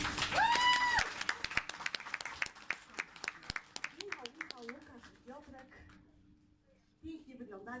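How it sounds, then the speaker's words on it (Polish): An audience applauds at an in-store guest appearance by a band, with scattered claps and brief musical tones at first, then people talking over the tapering clapping. "wielkie brawa"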